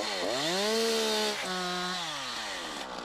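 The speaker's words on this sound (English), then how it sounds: "Use the trunk as a protection between you and the saw." A chainsaw runs steadily while cutting into a tree trunk, its pitch sliding and dipping under load, loud and close throughout with no talk.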